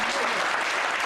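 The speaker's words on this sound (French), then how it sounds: "Est-ce qu'on peut acclamer les Seigneur?" A church congregation applauds to acclaim the Lord during worship, a dense, loud, steady wash of clapping with voices mixed in.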